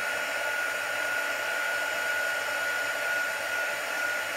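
Embossing heat tool blowing over acetate card, a steady close whirring fan and airflow roar with a faint high whine, unbroken and alone.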